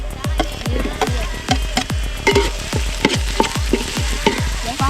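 Tomatoes frying in a pan for a Kerala-style kappa curry with crushed garlic, a steady sizzle cut by a regular beat of stirring scrapes, about two to three per second, close and fairly loud with no talk.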